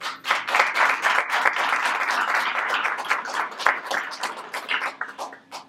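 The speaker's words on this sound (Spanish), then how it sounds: "Le damos un fuerte aplauso." Applause from an audience at a Spanish-language book presentation, a dense steady wash of many hands clapping for several seconds, then tapering off near the end.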